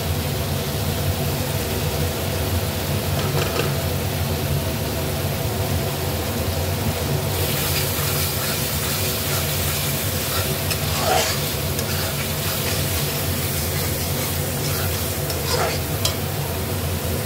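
Potatoes and eggs with spices stir-fry in a pan, a steady close sizzle with scraping stirs throughout and no talk.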